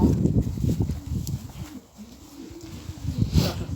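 Pigeons in a backyard loft coo in low, soft, rolling calls that repeat and overlap throughout, close by, with faint outdoor background noise.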